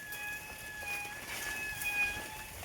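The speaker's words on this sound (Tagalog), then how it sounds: "Maganda yung tunog ng preno mo, Jay." Bicycle brakes squeal on a downhill trail in thin, high, wavering tones that come and go in short bursts, faint against outdoor wind and riding noise.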